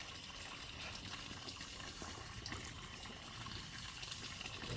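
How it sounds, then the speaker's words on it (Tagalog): River water flowing steadily in a broad, continuous wash, close and fairly loud throughout, with no talk over it, during net fishing in a river. "Ilog po yan. Yung daanan ng tubig yan."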